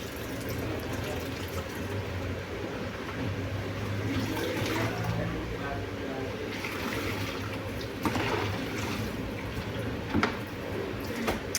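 Water runs continuously from a tap to rinse liquid detergent out of laundry, a steady splashing flow with some sloshing and a few brief knocks, and a voice speaks faintly beneath it.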